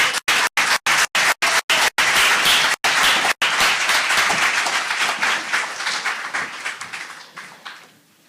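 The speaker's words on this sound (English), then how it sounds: "if we could give them another round of applause" An audience at a panel discussion applauds, a dense wash of clapping broken by brief gaps, then gradually thinning and fading away.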